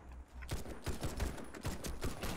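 Rapid bursts of gunfire in the shooter game Warface play in quick succession, several sharp cracks and short volleys under a steady background, with no talking.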